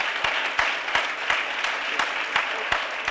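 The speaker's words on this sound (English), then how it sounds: "his passion and his vision deserves a big round of applause" An audience at an NAACP jobs campaign event applauds steadily for several seconds, with a dense wash of clapping and a few sharper individual claps standing out.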